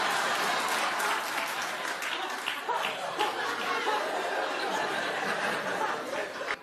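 A television talk show studio audience claps loudly and continuously, a dense crowd applause sustained throughout with a few chuckles and laughs mixed in.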